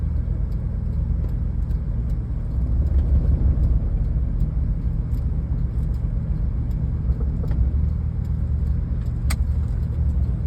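A car rolls along in a driving lesson with a continuous low engine and road rumble heard from inside. A few faint clicks and rattles come through, and no one speaks.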